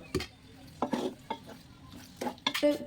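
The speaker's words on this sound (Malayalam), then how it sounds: "കഴുകി വെച്ച ചിക്കനും കൂടെ ചേർക്കുക പിന്നെ ആവശ്യത്തിന് ഉപ്പൊക്കെ ഇട്ടിട്ട് നന്നായിട്ട് മിക്സ് ചെയ്യുക" Chicken with salt and Maggi cubes stirred in a pan, giving several distinct scraping and sizzling strokes at an irregular rhythm, close and fairly quiet, with no talking.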